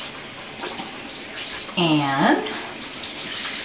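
A bathroom tap runs briefly to dampen a washcloth during an evening skincare routine, with a short gush of water beside soft talking.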